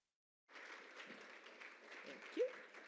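Faint applause from an audience at a university symposium on religious inclusion, welcoming a speaker. After a half-second of silence, the clapping starts abruptly and continues evenly.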